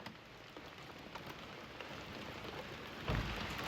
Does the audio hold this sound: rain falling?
yes